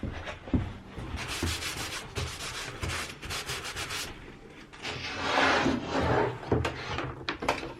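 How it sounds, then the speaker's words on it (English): Sandpaper rubbed back and forth on wood, a close, rhythmic scratching in repeated strokes that grows longer and louder toward the end, with no talking. "maybe because I used the sandpaper a little bit"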